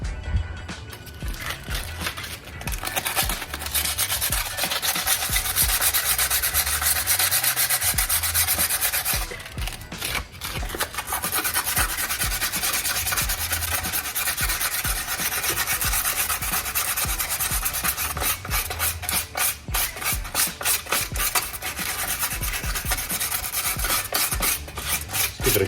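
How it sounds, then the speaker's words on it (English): P80 sandpaper scrubbed by hand over a rusty brake hub on an F30 N55 during a front rotor replacement, close rhythmic rasping strokes that run almost continuously, with one brief pause partway through. "I'm going to be using this P80 Sand Paper."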